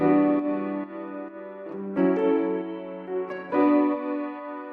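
Instrument tone run through a Shaper Box effects plugin, its sustained harmonic notes pulsing and swelling in rhythmic volume and filter movement, with chorus-like modulation and distortion character, alone with no voices.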